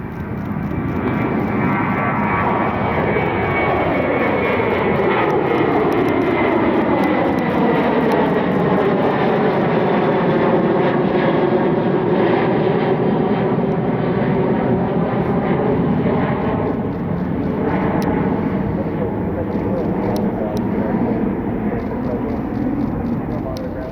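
A United Airlines jet airliner bound for Houston departs Cleveland with a loud, sustained engine roar whose tones sweep steadily as it climbs past, filling the whole stretch.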